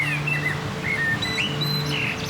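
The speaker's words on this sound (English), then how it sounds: "as I left the houses behind, the bird songs became stronger" Several birds sing and chirp in a Swiss forest on a winter morning, with repeated clear whistled phrases and tweets over a steady background, moderately near and continuous, with no talking.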